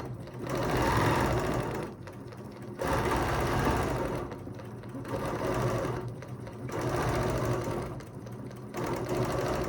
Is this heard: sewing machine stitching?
yes